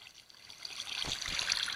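Water flowing in the Minecraft video game, a soft steady trickle and gurgle that stays fairly quiet and swells slightly over two seconds, with no voices.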